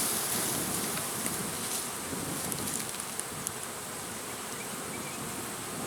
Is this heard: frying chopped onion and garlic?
no